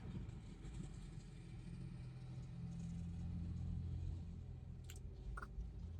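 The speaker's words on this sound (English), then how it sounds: "Sorry, loud truck." A loud truck rumbles past outdoors, a low steady engine drone swelling and lingering for several seconds with a couple of faint higher clicks near the end.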